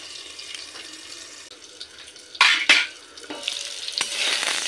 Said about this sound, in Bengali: এবার পটলটা দেওয়ার পরেও আবার একটু ঢাকা চাপা দিয়ে আলু পটল একসাথে একটু ভেজে নিই।